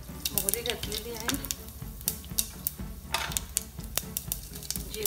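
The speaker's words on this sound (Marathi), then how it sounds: "आता आपण नेहमी फोडणी करतो तशी फोडणी करून घेऊया" Mustard seeds crackle and sizzle in heated oil over a low gas flame while tempering for a mung dal dish, with rapid irregular pops and spits close by over a steady frying hiss.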